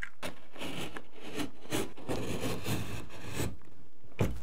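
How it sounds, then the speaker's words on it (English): Utility knife blade sawing and scraping through drywall, giving repeated rasping strokes at a steady rhythm, close and moderately loud. "It takes a little more effort with a utility knife, but you can definitely get it done."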